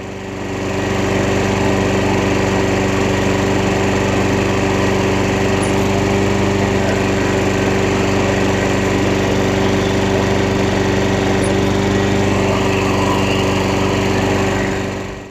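A Craftsman self-propelled lawn mower runs steadily with its drive engaged by the pulled cable, a loud, close, continuous engine drone with a stable hum that holds for the whole stretch and fades at the end, with no talk.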